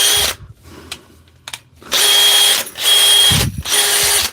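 A DeWalt power drill close up, run in several loud bursts of whirring motor with clicking pauses between them and a ratcheting chuck mechanism.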